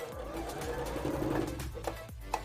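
A home sewing machine stitches a pant line on a custom mannequin project, its motor whirring steadily and close with a fast mechanical rhythm for most of the stretch, slowing and clicking near the end.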